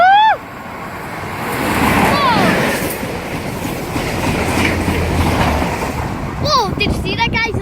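A train rushes past a station in Cambrils, Spain, with a loud, close rumble and rail clatter that swells and stays heavy, plus high whistling tones near the start and end while people talk and exclaim.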